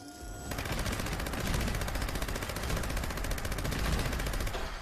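Rapid automatic gunfire from Fallout 76 hammers away in a steady, fast stream of evenly spaced shots, loud and continuous for several seconds with no talking.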